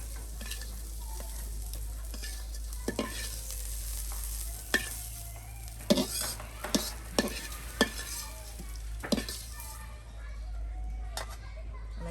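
Dried chapa shutki fish fries lightly in a pan, giving a soft, steady sizzle over a low constant hum, broken by occasional sharp scraping taps of stirring.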